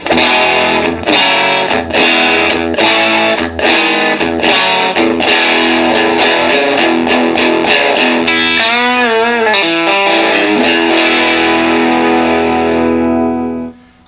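A loud, distorted electric guitar plays strummed chords and a bending lead line through a vintage Fender Tweed Harvard amp set at 6.5, overdriven, ringing out and fading at the end.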